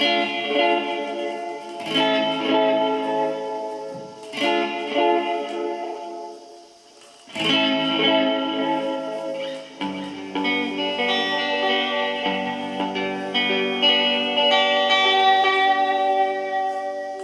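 A 1970s Roland RE-201 Space Echo tape echo and reverb unit processes a played instrument, giving sustained chords with repeating echo tails and washy reverb that swell, decay and restart several times, with no voices.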